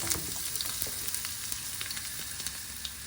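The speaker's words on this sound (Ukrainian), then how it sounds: "смажимо до прозорості." Onion sizzles steadily in a little hot oil, frying until translucent, a constant crackling hiss dotted with small pops, close and fairly quiet, no talking.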